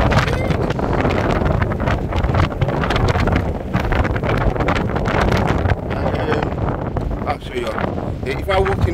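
Heavy wind at Danes Dyke nature reserve roars and thumps against the microphone in constant gusts, loud and close, with a voice faintly audible beneath the buffeting.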